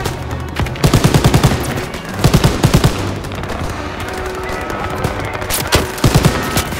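Rapid machine-gun bursts ring out in Call of Duty: WW2 amid a chaotic battle, with several loud, clipped volleys spaced a second or two apart over constant background combat noise.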